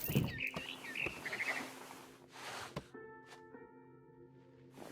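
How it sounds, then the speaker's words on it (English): Short chirps and tweets of a barn swallow heading back to its nest in the video game What Remains of Edith Finch, a few bright calls early on over a low game ambience that later settles into steady tones. "Then I heard chirping outside my window. It was a barn swallow going back to her nest."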